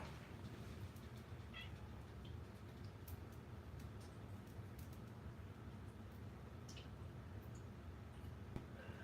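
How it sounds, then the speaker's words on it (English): Cats meowing now and then over a steady low rumble of background noise, with a few faint ticks and small clatters mixed in; the calls are soft and scattered, and nobody speaks. "as soon as I open this, we're gonna hear cats running."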